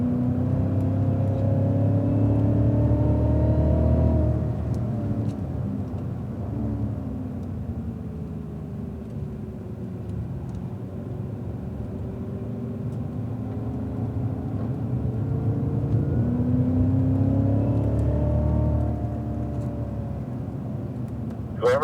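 A Cadillac CTS-V on a race track: the engine drone rises and falls as the car accelerates out of turns, a steady throaty rumble with rising pitch sweeps, no speech.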